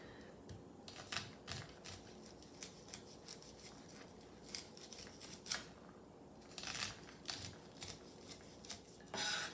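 A knife slices kernels off ears of corn on a cutting board, a run of quick close scraping and cutting strokes in irregular bursts, with brief pauses between passes and a louder flurry at the end.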